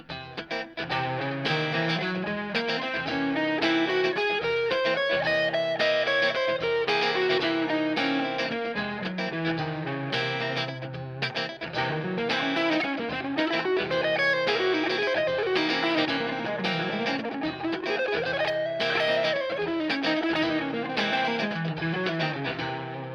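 Electric guitar runs up and down the altered scale through effects with distortion and chorus, a continuous flowing line of notes rising and falling, loud and alone without talk.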